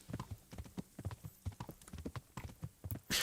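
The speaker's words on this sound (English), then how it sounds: "we will dismount this horse outside of Neuhof" A horse's hooves clip-clop in a brisk, steady trot in the Kingdom Come: Deliverance video game, close and rhythmic, ending with a sudden burst of noise.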